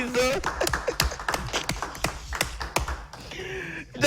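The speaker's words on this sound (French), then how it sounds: "On applaudit pour Schizo." Small studio audience clapping for a guest on a talk show, a quick run of sharp, fairly sparse claps close by, fading out after a few seconds as a voice comes in.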